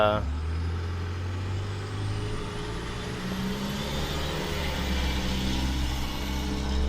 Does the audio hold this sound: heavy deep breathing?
no